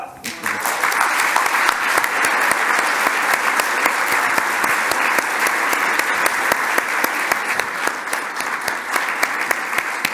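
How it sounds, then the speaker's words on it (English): Audience applause at an evening lecture event, a dense and sustained wash of clapping from a large room that starts suddenly and holds steady for about ten seconds. "Why don't we give them a round of applause?"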